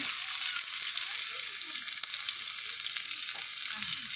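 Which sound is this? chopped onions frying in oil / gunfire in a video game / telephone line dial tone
chopped onions frying in oil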